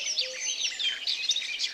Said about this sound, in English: The birds were chirping and singing sweet songs